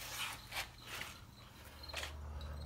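Bolts being tightened on fiberglass racing fairings of a Ninja 250R motorcycle, giving a few quiet, close ratcheting clicks in short bursts.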